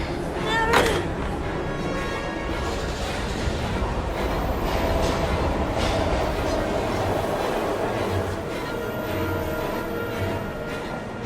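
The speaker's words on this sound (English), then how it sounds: "We've got to get on that train, Ethan" A rumbling moving train in the video game Heavy Rain, steady rolling rail noise with faint clatter and wheel squeal throughout, holding a constant loud level.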